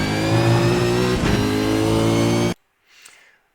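A race car engine revs hard, loud and close, accelerating through a corner on the Road America circuit, then cuts off abruptly, leaving a brief faint sound afterward.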